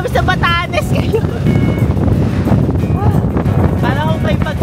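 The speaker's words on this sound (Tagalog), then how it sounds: "Parang may bagyo dito. Sa lakas ng hangin." Strong wind in Batanes buffets the microphone in a constant roaring rush while voices talk and exclaim over it.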